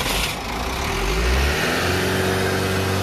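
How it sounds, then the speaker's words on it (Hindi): An Ashok Leyland BS3 truck engine, with dirt and water inside it, is restarted and revved, rising into a loud close roar then holding a steady rumbling idle, no voices heard. "बंद किए, वापस चालू करो"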